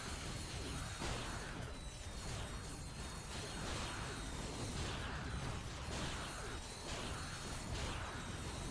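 Bolts collected in Ratchet: Deadlocked pour in amid constant metallic clinking and ratcheting, with repeated whooshes and pops over a dense, busy game mix and no voice.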